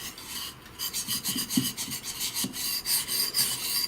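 A Japanese santoku knife sharpened on a whetstone, close and alone, with rhythmic rasping strokes of steel scraping across the stone in quick repeated passes.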